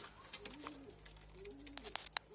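Soft, low pigeon coos repeat a few times against a quiet outdoor background on a rooftop loft, with occasional small clicks and rustles.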